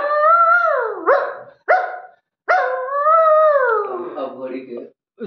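A man imitates a barking dog with his voice: whining howls broken by short yelps and a sharp bark, loud and close, in a quick uneven run.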